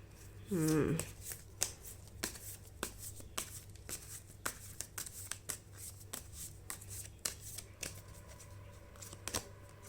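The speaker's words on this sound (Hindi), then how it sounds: "पहले मैं सारे कार्ड्स ले लूँगी फिर मैं समझाऊँगी" A deck of tarot cards is shuffled in one brisk riffle near the start, followed by soft, scattered clicks and taps as cards are drawn and laid down; a person talks quietly in between.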